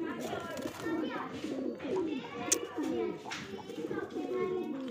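Teddy pigeons at a loft give a steady run of soft, throaty cooing calls, repeated and overlapping at close range, with faint background noise and the occasional brief sharper sound.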